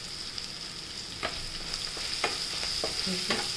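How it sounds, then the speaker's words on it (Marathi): Fenugreek seeds and coriander leaves fry in oil in a pan, giving a steady, close sizzle with a high whine over it and several soft scrapes of a stirring spoon. "सगळं परतून गेलं 5 मिनटं तेलात।"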